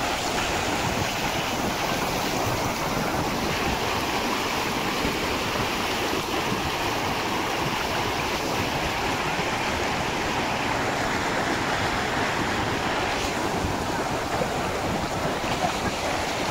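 Floodwater rushes after torrential rain in Rahata taluka, making a loud, unbroken roar of fast-moving water, mixed with wind buffeting the microphone throughout.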